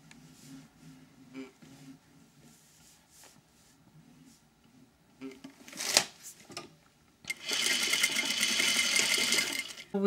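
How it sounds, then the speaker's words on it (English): A sewing machine stitches all the way round the waist casing of a dress being turned into a skirt, running as a loud, steady continuous whir in the last few seconds after quieter handling noises and brief sounds. "I'm about to sew right round"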